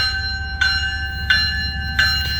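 A departing train's bell clangs three times at a steady, unhurried pace, loud and close, ringing over a constant low rumble of idling locomotives.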